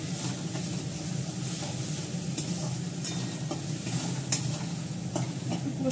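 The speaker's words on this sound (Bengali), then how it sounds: "এটাকে কষাবো।" Food being stir-fried (kosha) in a pan, with a steady sizzle and repeated scraping strokes of a spatula throughout, close and fairly loud, with no talk.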